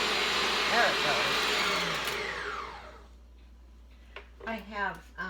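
A new red electric stand mixer bought from Amazon beats bread batter for applesauce raisin cinnamon bread, a loud steady whir that runs about three seconds and then stops, followed by a quiet stretch and a few short bursts of talk.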